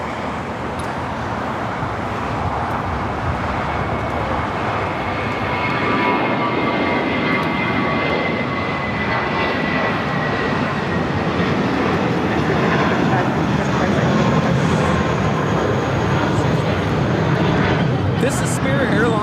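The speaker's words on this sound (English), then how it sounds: "This is Spirit Airlines 2567 taking off to Louisville on the A320." A Spirit Airlines Airbus A320 taking off at LAX, its engines giving a loud, steady jet roar that builds slightly and holds for the whole stretch, with people talking underneath.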